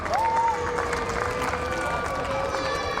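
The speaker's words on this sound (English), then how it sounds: "You can see the kids clapping around. They are cheering." Kids clapping and cheering around a mixed doubles pickleball quarterfinal at an India Masters event, a steady crowd roar with scattered applause over distant voices and a brief whistle-like tone near the start.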